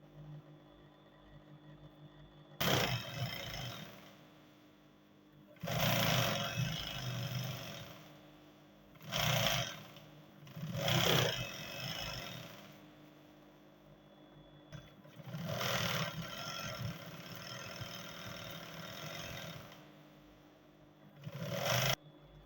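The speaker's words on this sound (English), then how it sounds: "You sew on your elastic at the tip of your elastic first for starters" A sewing machine stitches elastic onto cargo pants, running in several separate bursts of steady whirring with short pauses between them, close and fairly loud with no talking.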